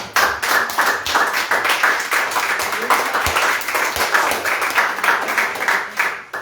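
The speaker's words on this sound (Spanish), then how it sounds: "Eso es un aplauso al Señor, hermano." Church congregation applauding during a sermon, a brisk, fairly close burst of many hands clapping with a rhythmic, slightly uneven pattern, lasting several seconds.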